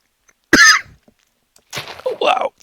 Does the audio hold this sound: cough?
yes